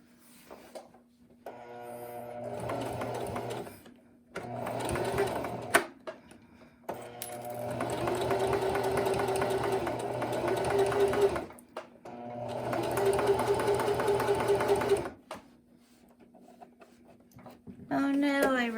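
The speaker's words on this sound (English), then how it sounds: "we're just gonna do another plain seam, so back stitching at the beginning and end" Sewing machine stitching a plain seam with back stitching at 2.5 stitch length, loud bursts of rapid whirring separated by short pauses, with a voice talking in between.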